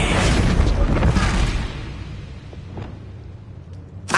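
A heavy Descendo spell impact in the video game Hogwarts Legacy lands as a loud, booming crash that rumbles for about a second and a half, then trails off into quieter rumble and a few faint pops.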